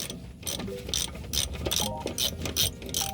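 Ratchet wrench removing the wheel cylinder bolt of a brake with a stuck adjuster, close and clear, giving a rhythmic series of rapid clicking strokes about twice per second.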